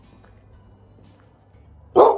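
A single loud, sharp bark from a dog at an animal shelter breaks a quiet stretch near the end, close by and sudden.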